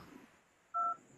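A single short phone keypad dialing tone beeps once, brief and clear against a quiet background, with no voices.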